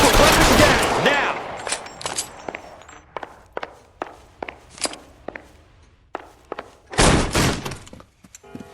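Gunfire in the crime video game L.A. Noire: a loud opening burst, then a string of separate sharp shots and thuds at uneven intervals, and a final heavy blast near the end, standing mostly alone.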